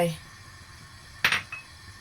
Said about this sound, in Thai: เดี๋ยวตักน้ำมันออกก่อน